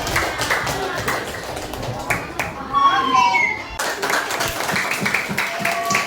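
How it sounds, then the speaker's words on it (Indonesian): A group of fifth-grade children in a classroom claps together in a brief burst of rapid, uneven applause, with a short spoken word before it and chatter around. "tepuk tangan buat kelompok"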